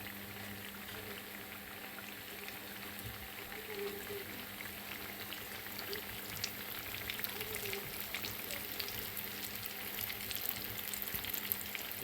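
Tuna ensaimada frying in a pan, a steady soft sizzle of oil running throughout at moderate distance with faint scraping as the pieces are turned over.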